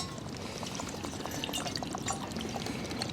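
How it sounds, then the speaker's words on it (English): Boiling water is poured into a plastic drinking bottle at a cold-weather campsite, a steady close-up splashing gush that fills the bottle continuously with no talking. "Put boiling water in this."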